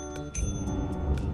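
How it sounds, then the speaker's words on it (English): A bell rung repeatedly in the video game Lethal Company, a handful of quick bright dings spaced irregularly over a low steady hum, fairly quiet and with no talk. "keep ringing the bell"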